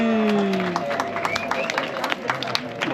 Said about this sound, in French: oh, tout le monde applaudit.